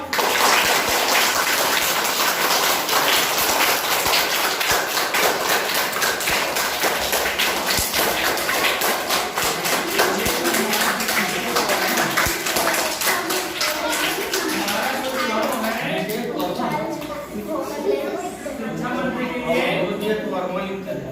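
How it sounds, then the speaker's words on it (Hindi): Children in a classroom clap for a newly elected classmate, a loud, rapid patter of many hands that starts dense and turns looser and more scattered near the end. "मुकेश का ताली बजाओ"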